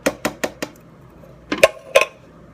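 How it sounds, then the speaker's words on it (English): Canned tomatoes tipped from a tin into a Tupperware pressure cooker for homemade goulash: four quick metallic clunks in a row, a pause, then two louder knocks and scrapes, close by with no talking. "So I'm going to add the 1 can of tomatoes into the pressure cooker."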